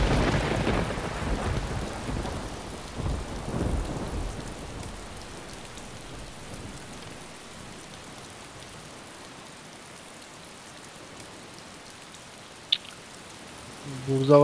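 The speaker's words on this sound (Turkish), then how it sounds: "Burada var ya yağmur işimizi bozuyor kanka." Steady rain and rumbling thunder in the survival video game DayZ, loud at first with heavy low rolls, then easing into a softer patter before a sharp crack near the end.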